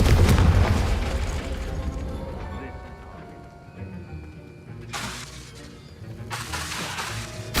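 A loud, shattering blast of the Confringo fire spell in Hogwarts Legacy opens with a heavy boom and crackling debris, then fades before two more sharp bursts flare up later.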